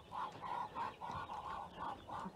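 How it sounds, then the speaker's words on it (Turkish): Repeated nasal honking quacks from American ducks, about eight calls in a steady rhythm, fairly close, with no talking. "Yeni Amerikan ördeklerimiz."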